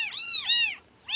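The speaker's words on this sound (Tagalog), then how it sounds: "pusa." A cat meows three times on a farm in the rural Philippines, with two long, loud, close calls followed by a short pause and the start of a third. There is no talking.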